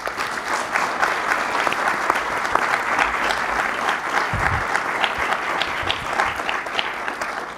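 A room full of people gives a huge round of applause for volunteers at a federal election candidate forum in Bennelong, steady, dense clapping that holds at an even loudness throughout.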